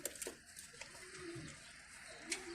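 Pigeons returning to their loft cooing in low soft calls, with a couple of distinct coo phrases around the middle and end, amid faint background bird chirps and rustling.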